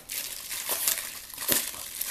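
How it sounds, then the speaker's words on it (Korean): Protective plastic film is peeled and crinkled off a new Alphascan AVA2404 monitor, a close crackling rustle with two sharper crinkly bursts, alone with no talk. "보호비닐 한번 제거해 볼까요?"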